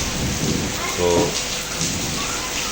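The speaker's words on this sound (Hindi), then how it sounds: "बारिश बड़ी जबरदस्त हो गई" Heavy rain pours onto a veranda in a dense, steady hiss with a few louder surges, and a voice speaks briefly under the downpour.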